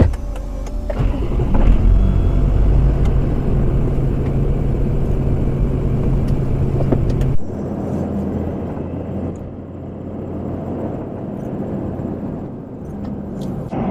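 Inside a Toyota Land Cruiser 200 cruising at highway speed, a steady low road and engine rumble fills the cabin, dropping to a quieter hum partway through, with no talking.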